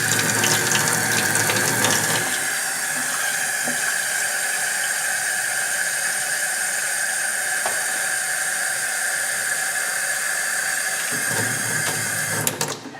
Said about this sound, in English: collect the pieces of hard drive in a Ziploc bag and fill the bag with warm water